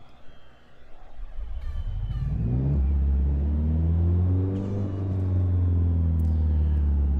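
Car engine in a driving video game, idling in first gear with the gas released, a low steady chugging rumble that settles into a loud sustained drone after a brief quieter start.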